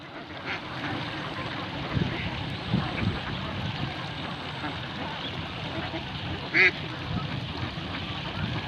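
Ducks on a duck farm in the Philippines, being moved to a new pen, give a steady low background of quacking with one brief louder call near the end, heard amid outdoor noise.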